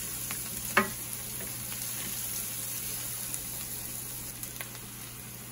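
Onions fry in a pan with a little salt for moong dal, giving a steady, soft sizzle with a brief stirring clatter near the start and a few faint clicks.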